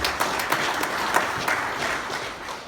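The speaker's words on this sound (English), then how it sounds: "Give them a huge round of applause." An audience at a club championship draw event applauding, a short burst of steady, fairly close clapping from a modest crowd.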